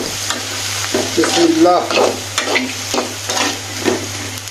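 Spiced food with ginger stirred and fried in a pan: continuous close sizzling with repeated scraping stirs, fairly loud, and a brief spoken word near the start.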